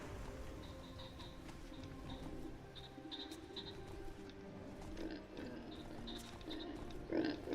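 Pigs oink in Skyrim, the small and larger animals grunting intermittently against a busy farmyard backdrop with faint bird-like chirps.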